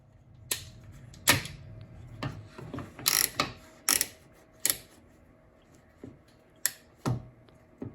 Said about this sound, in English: I'm just going to use some spring clamps as well for the other two places